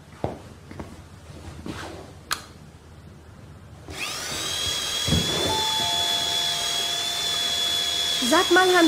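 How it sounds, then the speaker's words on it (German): A power drill, used to drill into a wall above a desk at home, spins up with a sudden loud, steady high whine after a few seconds of quiet room sounds and footsteps. "Ich hol die Bohrmaschine."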